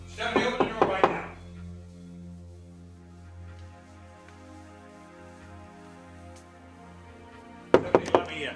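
Knuckles rap sharply on a door in a quick burst of about six knocks, then fall quiet under a low sustained musical tone, before a second rapid burst of knocks near the end.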